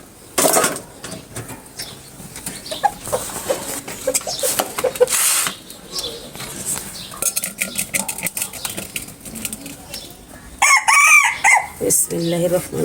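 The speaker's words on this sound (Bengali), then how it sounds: "দেশি মুরগি" A domestic chicken rooster crows near the end, loud and close, after a stretch of clattering dishes and kitchen utensils.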